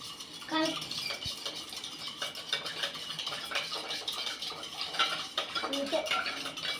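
A spoon stirs and mixes lemon juice in a vessel, clinking and scraping steadily against the sides in a continuous close rattle, with a voice speaking briefly.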